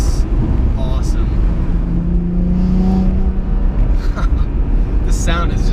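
A 2004 BMW M3 E46 engine drones steadily while driving, a low continuous exhaust note with a brief rising tone, mixed with wind and road noise throughout.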